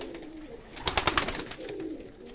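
Armenian pigeons cooing in a loft, a soft low throaty coo with a quick burst of wing flaps or scuffling in the middle, heard close up without speech.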